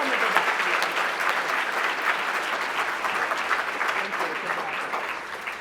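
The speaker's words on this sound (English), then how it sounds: "Another round of applause for our awardees," Steady, dense applause from a seated audience at a philanthropy awards ceremony in Chicago, loud and continuous throughout.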